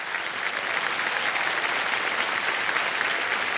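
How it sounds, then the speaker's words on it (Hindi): A KBC game-show studio audience gives loud, sustained applause, a thick, even roar of clapping that carries on without pause and with no speech over it. "जोरदार तालियां बज जाए इनके लिए"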